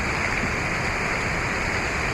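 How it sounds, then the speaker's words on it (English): A waterfall running at barely a trickle makes a steady, close, broadband rush of falling water with no talk. "There's barely any water coming down the fall."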